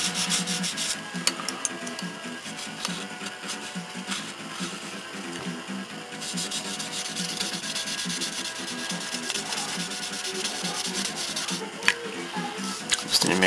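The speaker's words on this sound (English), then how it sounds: "Okay, so I got some 1000 here. Let's sand away the lint." Fine 1000 grit sandpaper rubs steadily against a plastic part of a 1:24 Aoshima Knight Rider K.I.T.T. scale model car, a continuous close scratchy back-and-forth hiss with no speech over it.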